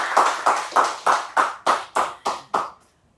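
Eight evenly spaced hand claps, sharp and close, at a steady beat before trailing into silence; sounds like a single person clapping rather than a crowd.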